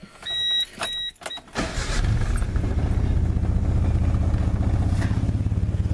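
A car engine is started after an oil change: a few short mechanical clicks and whirs, then a cranking catch into a steady, loud, rumbling idle that stays close and even to the end.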